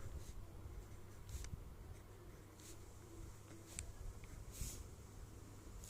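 Pen writing numbers on paper, a faint scratchy rhythm of short strokes and taps against quiet background hum.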